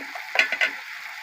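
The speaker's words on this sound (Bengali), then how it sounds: "ভালো করে ভেজে নেব।" Spices and salt frying in a pan with tomato and potato pieces, a close, steady sizzle broken by a few brief stirring scrapes, with no voices.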